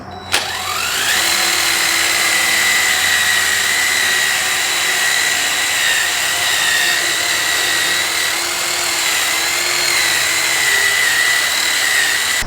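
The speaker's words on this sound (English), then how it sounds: "And these buffing wheels, there's two of them. I do it with this wheel first and then this one." Buffing wheels on a power tool polishing Borla Stinger exhaust pipes for a 2004 Cobra, a loud continuous high whine that starts with a quick rise and holds steady with slight pitch wobble.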